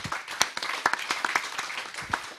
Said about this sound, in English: I hope you join me in applauding these the panelists.